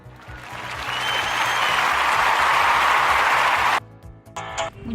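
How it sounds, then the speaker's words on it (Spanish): Studio audience applause on a Spanish-language business radio program, welcoming a co-host: clapping swells to a full, loud roar, holds, then cuts off abruptly, followed by a few faint sounds. "a quien recibiremos con un fuerte aplauso"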